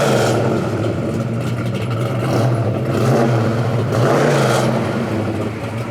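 A Hemi-powered 1973 Plymouth Cuda engine rumbles loud and close, with a steady deep throb that swells as it revs and then eases back, and no talking.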